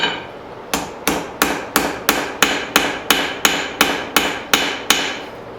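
A hammer striking hot steel on an anvil while forging bevels, about twelve sharp ringing blows at a steady, even rhythm, close and clear with no talk.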